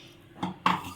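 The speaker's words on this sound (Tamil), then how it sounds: "நீ மட்டும் கரண்டி வச்சு கலைக்கணும் தான்." Metal ladle knocking against a cooking pot while stirring curry, two quick close clinks within a second.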